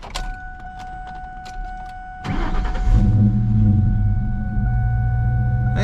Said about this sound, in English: Now let's go ahead and start it and see if it still does the weird start.